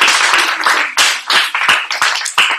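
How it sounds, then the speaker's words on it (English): A small summer camp audience claps after a presentation, a close, uneven patter of separate hand claps in bursts of a few seconds, with no speech. "So I ask that you all give them another round of applause."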